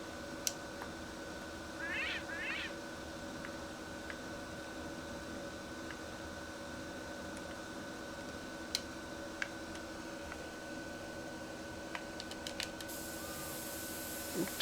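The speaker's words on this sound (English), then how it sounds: "There's a 2-color cat." A two-color cat in an open-world video game gives two quick, faint meows early on, followed by scattered soft clicks over a steady low background hum.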